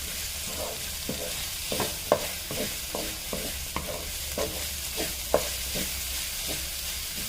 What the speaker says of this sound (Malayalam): ഞാനൊരു 1/2 കപ്പ് തേങ്ങ എടുത്തിട്ടുണ്ട്. അതും കൂടെ ലൈറ്റായിട്ടൊന്ന് വഴറ്റിയെടുക്കാം.